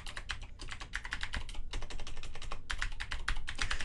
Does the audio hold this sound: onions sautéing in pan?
no